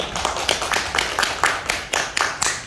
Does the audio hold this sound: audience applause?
yes